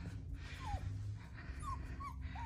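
Two six-week-old Central Asian Shepherd puppies whimpering, several thin, high, rising whines scattered across a few seconds, close but soft over low background noise.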